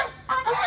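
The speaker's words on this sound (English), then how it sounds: "I just wanted to show you the geese and chickens and stuff" Domestic geese honk in a farmyard after a storm, two short nasal calls in quick succession, close and fairly loud with no talking.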